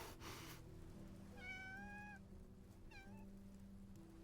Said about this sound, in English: A cat isn't a log. Come on, pet it.